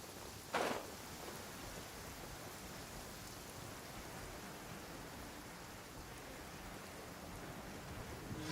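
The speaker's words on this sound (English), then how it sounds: "It's raining again?" In Genshin Impact, rain falls steadily as a soft, even wash of hiss, with one brief louder splash or tap near the start and no voices over it.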